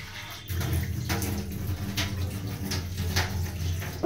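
Water runs steadily from a tap while eggplant and cauliflower soak in lightly salted water, a continuous splashing rush with faint clatters mixed in.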